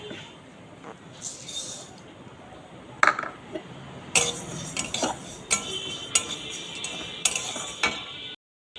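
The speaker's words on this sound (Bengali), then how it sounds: "এবার মুগের ডালটাকে ভেজে নেব" Dry moong dal grains rattling and scraping as they dry-roast in a metal pan, irregular stirring strokes with sharp clinks of a spoon, close and fairly quiet.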